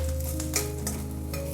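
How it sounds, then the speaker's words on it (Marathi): Grated coconut roasts in about half a teaspoon of oil in a kadhai, a soft steady sizzle under a low hum, with a few sharp spatula scrapes. "तर आपण हे खोबरं थोडंसं भाजून काढूयात."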